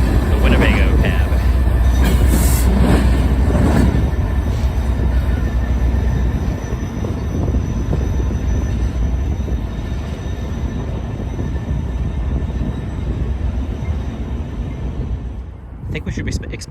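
The outbound Southwest Chief passenger train passes at Roosevelt Road with a loud, steady rumble of rail cars and wheels, plus some high wheel squeal, before it fades slightly near the end.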